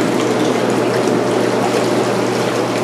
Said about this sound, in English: when you turn on the water jets